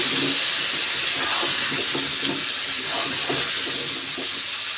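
Olives stirred into hot oil with panch phoron spices in a pan over medium heat for a sweet-sour olive pickle, giving a steady loud sizzle and hiss with soft scraping stirs throughout.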